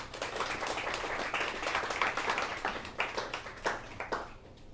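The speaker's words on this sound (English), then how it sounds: "Ooh, y'all clapped." Following a spoken-word poetry reading, a modest audience claps, a soft, fairly distant patter of hands that thins toward the end into a few separate, sharper claps.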